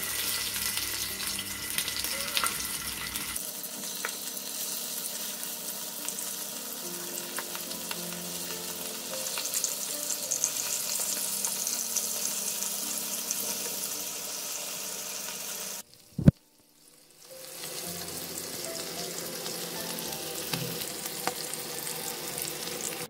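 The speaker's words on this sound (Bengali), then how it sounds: "আমি এখন ফ্রাই প্যানে পুঁটি মাছগুলো একটা একটা করে আলাদা করে দিতে হবে।" Small puti fish fry in oil in a frying pan, giving a continuous close sizzling hiss that drops out briefly after a sharp knock and then resumes, with no one speaking.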